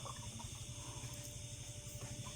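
Faint, continuous splashing and trickling of water while someone washes their face at an old well among plantation and rice fields, surrounded by graves. The sound is a low, steady wash with no voices.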